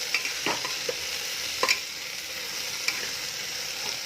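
Colourful vegetables sauté in a pan for khichdi, a soft steady sizzle nearby with several scattered spoon clinks and scrapes against the pan, and no talking.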